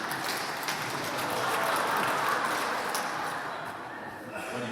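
Applause from a church congregation during a Lenten talk by a priest, a dense sustained patter of many hands clapping throughout, fairly loud and steady with no break.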